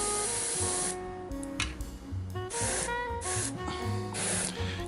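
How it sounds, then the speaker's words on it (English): An aerosol spray can hisses in a series of short and longer bursts while paint is sprayed onto a miniature figure, the loud close bursts separated by brief pauses. "spray from that direction"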